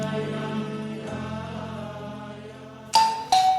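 A doorbell chime sounds at the door with two bright, close tones in quick succession, ending the clip after a sustained musical passage.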